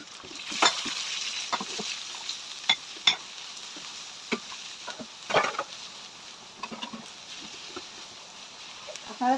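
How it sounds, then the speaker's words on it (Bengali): Chopped onion hits a pan of already-fried garlic and fries with a steady sizzle, punctuated by intermittent stirring scrapes and clinks through the clip. "এই অবস্থায় আমি দিলাম পেঁয়াজ কুচি।"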